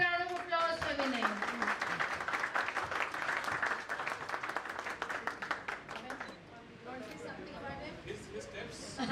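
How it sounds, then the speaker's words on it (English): An audience claps for Vinay at a corporate innovation event, scattered rapid clapping over music and cheering, thinning toward the end. "Can we give a big round of applause for Vinay?"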